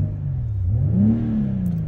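A 2022 BMW X6 xDrive40i's turbocharged inline-six engine revs up in Sport Plus mode and holds a deep, rising growl, then eases slightly, loud and close with no voices.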